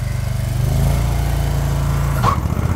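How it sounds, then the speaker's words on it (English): A lawn mower engine runs close by with a steady, loud low drone, passing near as someone walks past it, with a brief higher sound near the end. "Let me just get past this lawnmower."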